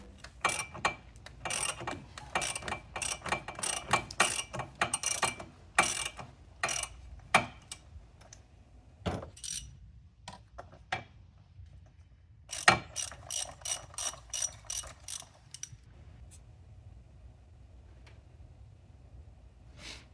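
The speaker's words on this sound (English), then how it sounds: "Now we need a 32mm socket to remove the oil, to open the oil filter housing." Ratchet wrench with a 32mm socket turning the oil filter housing cap on an Audi Q7 3.0T: bursts of rapid, close metallic clicking that start and stop, then sparser single clicks, with no talking.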